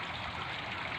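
Water drains steadily from a fish pond with a continuous broadband rushing trickle, close and even, with no voices present.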